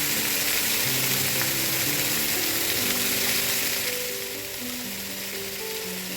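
Chicken sautéing with spices in a pan for chicken tinola, a loud steady sizzle that softens slightly partway through while quiet music plays underneath.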